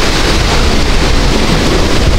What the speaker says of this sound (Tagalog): So ayan, malakas pa rin po ang hangin, oh.